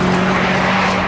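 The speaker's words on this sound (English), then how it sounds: "2-litre VTEC engine in this is astonishing" A Honda 2-litre VTEC engine screams at high revs toward 9,000 RPM, a loud, sustained, tightly pitched wail heard close up in one brief burst.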